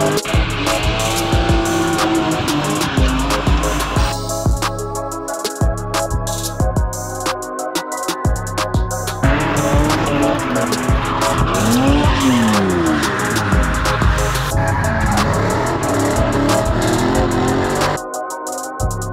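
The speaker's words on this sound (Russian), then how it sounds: "Сейчас слегка отвлечемся от гонок по прямой, переместимся на дрифт." A VAZ 2102 with a 2.5 engine, extra steering lock, hydraulic handbrake and welded differential drifts with loud, sustained tire squeal and screeching skids over a continuously roaring, revving engine close by.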